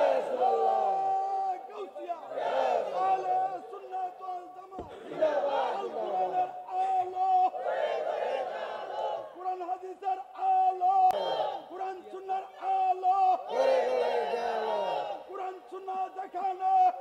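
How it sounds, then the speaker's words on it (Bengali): A large crowd at an outdoor Islamic sermon shouts the takbir chant in repeated loud bursts, answering a preacher's calls, with the voices swelling and fading in waves over roughly seventeen seconds. "একটা তাকবীর হবে"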